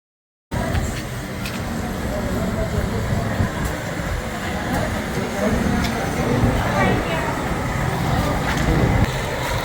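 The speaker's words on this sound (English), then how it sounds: "here's 2 of the trains from the Cog Railway" Cog Railway trains on Mount Washington rumble steadily after a brief silent start, a broad low mechanical roar with faint clanks and some wind at the summit, while a voice speaks over it.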